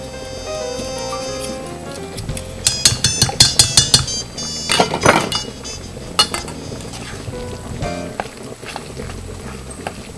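A big spoon scrapes and clinks against a bowl while mixing a thick, pasty cheese filling for lasagna, a quick run of rhythmic knocks followed by scattered clinks over faint background music.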